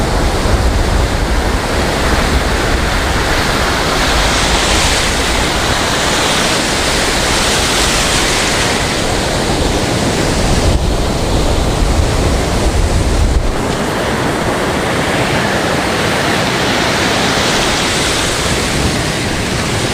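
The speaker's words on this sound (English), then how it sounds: "Those waves just back behind these inner ones, dying away" Ocean surf breaking at Muriwai beach roars in a loud, continuous wash of white noise for the whole stretch, with slow swells in intensity and wind buffeting the microphone, and nobody talking.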